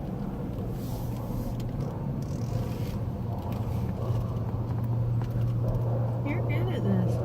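An automatic car wash spraying a car from inside the vehicle, a steady hiss and rumble of water jets with scattered clatter, running under people talking.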